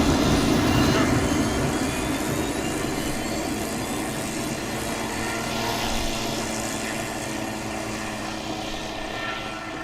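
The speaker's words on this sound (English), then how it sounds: "I'm gonna take the Chinook up." A Chinook helicopter takes off in the video game Arma 3, its rotor and engine roaring loudly and continuously, fading slightly, while voices talk over it.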